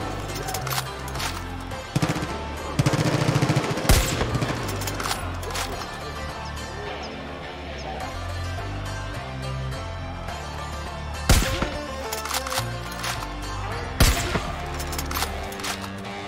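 Enemies firing guns at a Far Cry 5 outpost: sustained distant automatic gunfire and scattered shots, with a few sharper close bangs over a steady game soundtrack and ambience.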